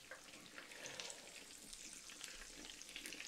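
Apple fritters sizzling and bubbling in hot frying oil, a close, steady crackle with a few brighter pops, no voices.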